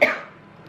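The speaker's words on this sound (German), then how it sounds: "dieser Husten, ne? Er geht einfach nicht weg." A single sharp cough bursts out at the start and trails off quickly, close and fairly loud, from a person with a lingering cough.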